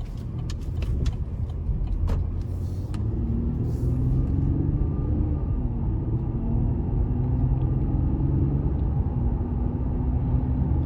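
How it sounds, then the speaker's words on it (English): A 2021 GMC Canyon Elevation pickup truck with a 3.6 engine and two-wheel drive cruises on a test drive, giving a steady low road rumble and engine hum heard from inside the cab, with no talking. "here we go on our test drive, the 21 Canyon Elevation Edition."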